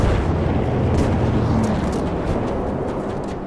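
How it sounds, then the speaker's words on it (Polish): Bombs exploding in the video game Battlefield V, a continuous loud, deep rumbling roar of blasts that fills the whole stretch with no clearly separated hits and no speech. "Fajnie, że zrzucają na nas bomby, doceniam."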